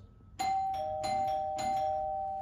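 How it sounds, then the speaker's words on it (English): A Newton electronic doorbell chime rings clearly, with three struck notes in steady succession over a sustained ringing tone. "So that is a Newton doorbell. That's the sound it makes."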